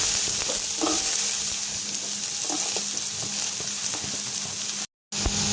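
Onion sizzles in hot oil for ginataang hipon, a steady crackling fry with a few soft clinks of a spatula, close and continuous, cutting out briefly near the end.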